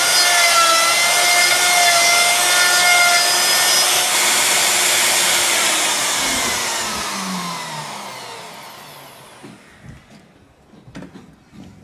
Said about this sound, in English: So the next step is to start the router. We're going to plunge down.